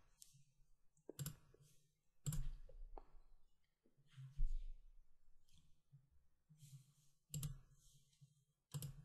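A computer mouse clicks a checkbox in a website settings page, giving several sharp, close clicks at irregular intervals against quiet room noise and faint movement.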